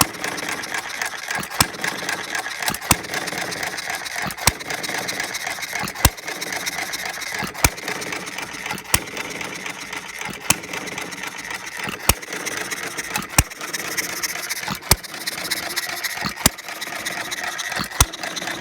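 A small half-scale hit-and-miss model single-cylinder engine runs steadily on battery ignition, giving a sharp firing pop about every second and a half with mechanical chatter in between.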